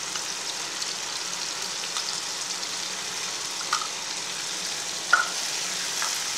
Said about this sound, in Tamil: கொஞ்ச நேரம் இப்படி வதக்கிட்டுருங்க.